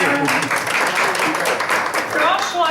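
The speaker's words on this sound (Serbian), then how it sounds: "udruženje Aronija i Fidančo kao prvak u svemu tome koji sada ima svoje zelene domaćinstvo zaslužuje veliki aplauz" Audience applause at an online training session on using natural resources, a steady wash of clapping lasting a few seconds, fairly loud, with a voice speaking over part of it.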